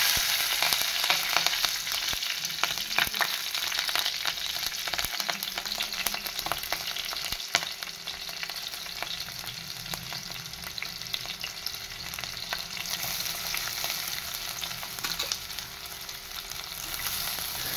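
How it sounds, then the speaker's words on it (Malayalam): Green chillies fry in a pan of hot oil for a Kerala-style fish curry, giving a steady, dense sizzle that runs the whole time, close and fairly loud, with a few brief stirring knocks and no talking. "അപ്പോൾ നമ്മൾ അതിനകത്തേക്ക് പച്ചമുളക് ഇട്ട് കൊടുക്കണം കേട്ടോ"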